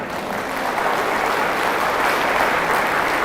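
A large audience applauds steadily at a gathering in Jakarta, a dense, even wash of many hands clapping that holds at a constant loud level throughout.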